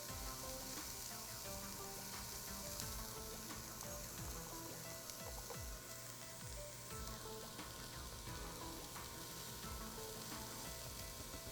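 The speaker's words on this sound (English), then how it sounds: "And now I'm starting with my onion. I'm going to cook it just for a few minutes." Onion frying in heated olive oil in a frying pan, a continuous even sizzle with fine crackles and popping, soft and steady with no voices.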